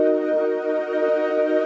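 In LMMS, a held, buzzy impostor synth tone drones steadily alone, its harmonics shaped by an equalizer and wavering slightly in level.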